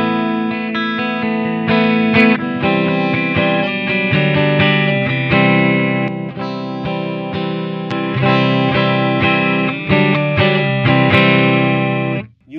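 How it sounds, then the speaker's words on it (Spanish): An electric guitar played through a Strymon Mobius modulation pedal rings out in sustained chords with a swirling, chorus-like shimmer, loud and steady with a few sharp attacks and no talking. "Tenés acá las modulaciones que te brinda el Mobius,"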